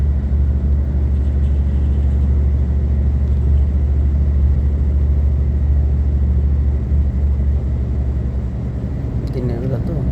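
Cars passing through a road tunnel beneath a railway, a heavy continuous low rumble of traffic and road noise that stays steady and loud throughout.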